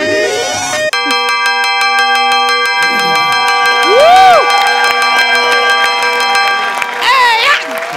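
A bright bell-like chime rings out on a TV comedy show stage, followed by a sustained tonal jingle with audience cheering and applause underneath.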